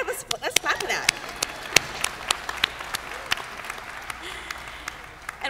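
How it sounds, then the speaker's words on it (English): Graduates and guests at the 2014 Western Governors University commencement ceremony clap in a scattered burst of individual hand claps that thin out into sparse, uneven claps, moderately near. "let's clap for that"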